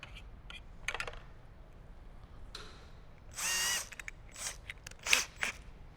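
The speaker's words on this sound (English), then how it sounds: "So now we can grab the provided hole saw, get that onto our drill." Short bursts of a power drill whirring with a hole saw, one longer steady spin in the middle, with clicks and handling noises between, during a Jeep Wrangler JL audio installation.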